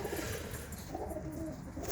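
A pigeon cooing in a loft: a soft, low, rolling coo, fairly faint against background noise, over about two seconds.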